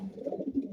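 Racing pigeons give one short, soft, low coo close by inside a loft, alone and brief.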